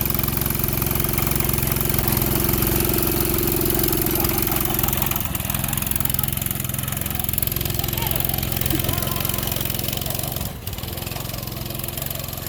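A Honda GX200 engine on a mini go kart runs steadily, a loud, continuous mechanical drone that holds close and even throughout, dipping briefly near the end.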